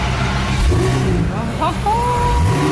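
A Pagani supercar engine cranks and catches after the start button is pressed, rising into a loud rev and then settling, with people talking over it inside the car.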